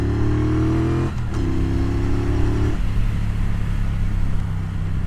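Triumph Bonneville Bobber Black motorcycle engine on a ride, a loud, close, steady throbbing drone that shifts pitch twice, as if changing gears, then settles into a lower sustained rumble.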